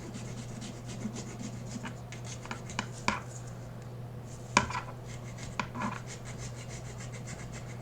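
Hand sanding a Master Sword prop, with gloves on, gives uneven rasping strokes and scattered gritty rubs, close and fairly faint over a steady low background hum, no speech.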